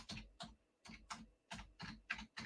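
Typing on a computer keyboard: quiet clusters of quick key clicks in an uneven rhythm, about six short bursts with brief gaps, close but faint, no talking.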